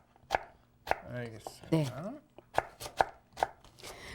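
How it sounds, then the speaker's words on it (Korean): A knife slices green onions into thick pieces on a cutting board, sharp single chops spaced about half a second apart, close and clear, with someone briefly talking between the cuts. "요 파만 어슷 이렇게 썰어주세요"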